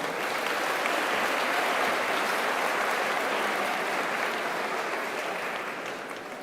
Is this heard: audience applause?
yes